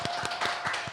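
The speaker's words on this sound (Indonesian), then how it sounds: "Tepuk tangannya." Audience applause for a guest clinical psychologist at a talk event, heard as a short patch of scattered hand claps, fairly soft and even, with no talking over it.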